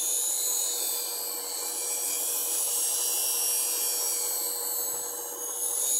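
Steady, even grinding hiss of a half-inch spindle gouge being sharpened on a grinder, continuous and close with no pauses or talk.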